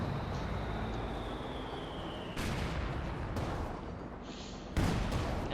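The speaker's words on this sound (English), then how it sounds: "Field gun's opening up." A field gun firing in the Company of Heroes 2 real-time strategy game, two sharp booming reports a couple of seconds apart over a steady, dense battlefield rumble of distant shelling and engine noise.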